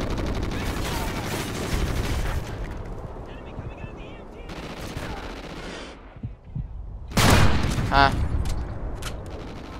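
Sniper rifle gunfire in the Call of Duty Ghosts video game, loud booming shots among the dense rumble of a multiplayer match, with a sharp crack standing out near the end and a brief voice.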